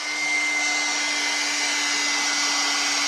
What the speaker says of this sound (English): this is going to get a little bit loud. I have my heat tool here.